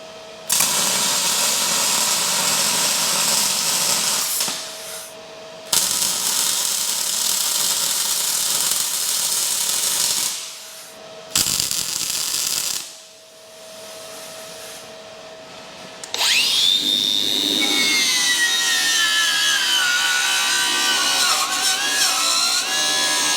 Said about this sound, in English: So I'll lay some weld on this crush tube.